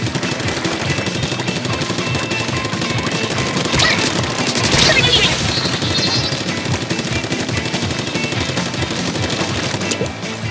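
Dense, rapid weapon fire in the Splatoon video game, a loud continuous stream of shots with a brief burst of louder impact midway and no talk.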